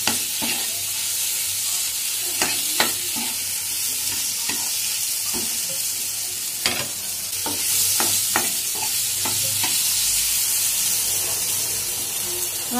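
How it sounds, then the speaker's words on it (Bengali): Potatoes stir-fried in a pan for a katla fish curry, with a steady close sizzle and hiss broken by sharp scraping clicks of a spatula stirring throughout. "ভালো করে কষিয়ে নিতে হবে আলুটা দিয়ে।"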